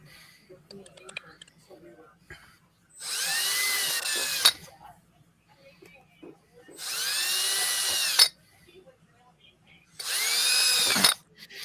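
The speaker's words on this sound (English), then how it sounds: "I'm just drilling out my pilot holes right now." A power drill boring pilot holes in wood: three whining bursts, each a couple of seconds long, separated by quiet pauses with faint soft voices and small handling noises close by.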